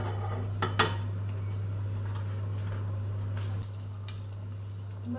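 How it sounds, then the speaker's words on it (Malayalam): Mustard seeds crackle and pop in hot coconut oil, a few sharp close pops early on over a steady low hum, then faint scattered sizzling. "നമ്മൾ കടുക് പൊട്ടുന്നുണ്ട്"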